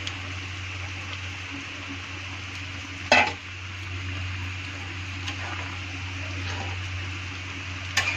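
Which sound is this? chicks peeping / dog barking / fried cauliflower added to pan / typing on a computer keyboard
fried cauliflower added to pan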